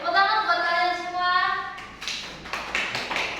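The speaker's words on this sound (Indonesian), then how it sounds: "Tepuk tangan buat kalian semua." A classroom of students claps briefly in short ragged bursts after a sustained voice, the claps fairly close and loud but lasting only a moment.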